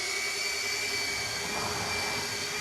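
A car detailing polisher running steadily with a smooth, even whine and faint hiss, close and continuous, no talking.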